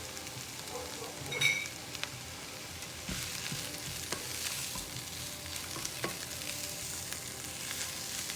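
Finely cut carrots sizzle and fry in a hot pan while being stirred, a steady close crackle broken by occasional scrapes and clinks of the utensil, with no talking.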